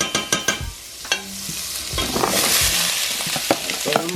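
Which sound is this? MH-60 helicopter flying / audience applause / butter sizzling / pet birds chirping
butter sizzling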